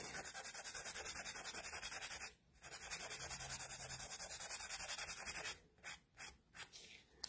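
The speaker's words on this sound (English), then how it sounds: "just lightly file the side to bring it in" A nail file rasps against the side of a 3D gel nail in steady, close back-and-forth strokes, then a short run of separate quick strokes with brief pauses near the end.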